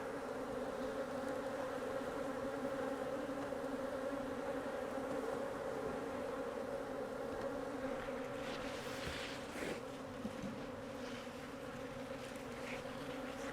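Dense, steady buzzing of many honeybees around a hive during a queen introduction, close and continuous, with individual bees droning past now and then.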